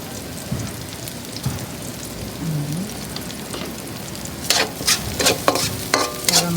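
Onions sautéing in a pan for pakbet, a steady close sizzle with spattering, then louder bursts of crackle and clatter of stirring toward the end, no talk.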